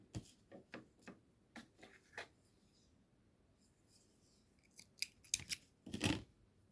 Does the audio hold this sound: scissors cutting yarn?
yes